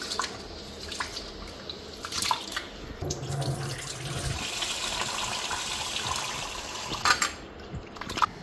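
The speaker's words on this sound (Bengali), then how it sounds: "চালটা এদিকে ধুইয়া দিয়ে আনি।" Rice rinsed under a running kitchen tap, a steady close rush of water with splashes and drips that swell and ebb, no voices.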